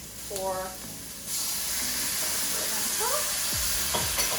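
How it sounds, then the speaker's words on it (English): Oyster sauce and cornstarch sauce being stirred into a sizzling fish and noodle stir-fry, with steady frying hiss throughout and a few scraping stirs; a voice briefly hums or speaks near the start. "Make sure you give it a good stir just to make sure the cornstarch is really dissolved in there."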